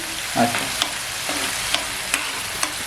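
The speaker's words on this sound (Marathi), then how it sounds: "आता आहे ना कोलंबी हां. छान अशी परतून द्यायची जरा एक पाच मिनिटं तरी" Prawns stir-fried in a pan, a steady close sizzle broken by several sharp scrapes and taps of the spatula at irregular intervals.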